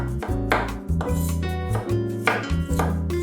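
A knife chops garlic cloves on a board in a series of sharp, close taps at an uneven pace, with steady music playing underneath.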